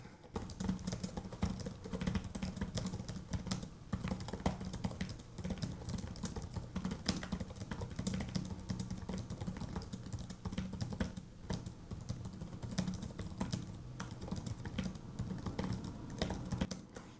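Continuous quiet typing on a 2026 ThinkPad X9 15p Aura Edition laptop keyboard, a steady patter of close key clicks running without pause and without voices.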